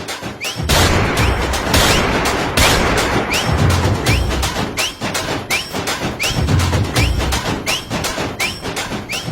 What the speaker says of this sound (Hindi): वो गोलियां चला रही यार